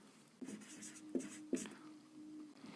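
Pen writing Hindi grammar notes on paper: quiet, close scratching strokes with a few sharper taps, irregular and faint, over a low steady background hum.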